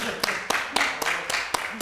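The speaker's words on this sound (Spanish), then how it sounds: "así que también le pido un aplauso" Audience at a Spanish film festival forum clapping in a steady, evenly spaced rhythm, a short run of about seven sharp beats at moderate loudness.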